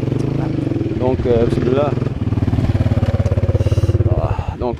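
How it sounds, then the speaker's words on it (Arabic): A KTM 450 SXF Factory Edition motocross bike revs up for a test ride, its single-cylinder engine idling in a fast steady pulse with throttle blips, close by, while someone talks over it. "فالدراري هيا الكاتم 450 فاكتوري اديسيون، دونك غادي نديرو لها تيست رايد اليوم"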